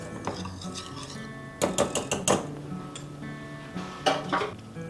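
Dry ingredients including salt being stirred together in a bowl for orange cranberry quick bread, heard as close, irregular bursts of utensil scraping and clinking against the bowl with quieter pauses between strokes.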